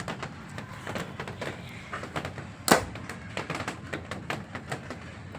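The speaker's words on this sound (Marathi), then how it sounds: "हे आपले पुसून घेतलेल्या कैऱ्या आपण आता कट करतोय त्या" Wiped raw mangoes are cut for pickle with a knife, a series of soft, evenly spaced taps and thuds on a board, fairly quiet, with one sharper clack midway.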